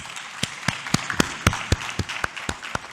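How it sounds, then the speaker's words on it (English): Audience at a panel session on local content in Uganda's power sector applauding the panelists: sparse, distinct claps in a slow, fairly regular rhythm, moderately quiet and close, from a small group. "I request that we give a round of applause to the panelists."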